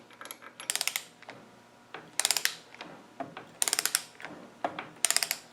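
A hand ratchet tightens bolts on a rusty Salisbury axle in quick bursts of sharp clicking, about five separate runs spaced a second or so apart, close and clear, with no talking.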